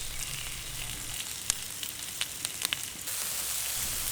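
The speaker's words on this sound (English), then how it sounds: "The mushrooms are doing nicely and the bacon's almost there." Bacon and mushrooms fry on a Weber Q 3200 gas griddle plate, a close, continuous sizzle broken by a few sharp pops and crackles, with no talking.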